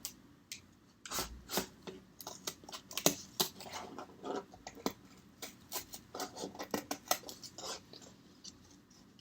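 Scissors cutting through cardboard close up, a series of irregular crunching snips and rasping rubs, fairly quiet, with short pauses between cuts.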